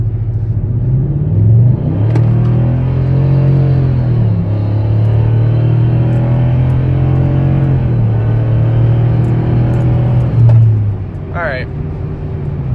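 A car engine fitted with a Diablo throttle booster set to 15% revs and accelerates on a back road, a loud close rising and falling drone with a continuous rumble, with a person talking over it.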